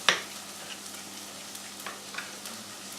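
Food frying in a pan for chilli con carne sizzles softly and steadily, with a sharp clatter at the start and light intermittent scrapes and shakes as it is stirred.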